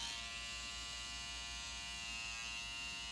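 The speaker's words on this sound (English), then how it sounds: "I let the clipper do all the work." An electric hair clipper trims hair around the ear while outlining a tapered Ivy League cut, a steady close buzzing hum with an even, unbroken tone and no voices.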